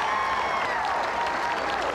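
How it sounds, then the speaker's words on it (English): Golf gallery at Pumpkin Ridge during the final round of the 1997 U.S. Women's Open applauding Tammy Green, a steady outdoor patter of many hands with tonal chatter or whistles faintly threaded through. "the gallery here today applauding Tammy Green"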